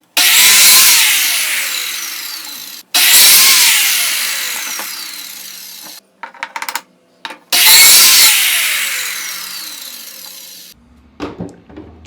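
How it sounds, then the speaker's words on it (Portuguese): A circular saw running on a guide rail rips through wood panels for a rustic wooden drawer in a woodworking shop, three long loud whining cuts with brief pauses and clatter between them, no talking. "vou colocar a serra circular, vou armar isso tudo e vou passar isso pra gente cortar."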